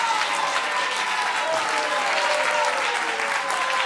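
A crowd applauds vigorously and continuously, a thick sustained roar of clapping at close range with no distinct speech.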